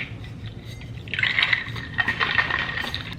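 Matcha drink shaken in a closed container, a rattling liquid slosh that starts faint and grows louder and busier halfway through, close to the microphone.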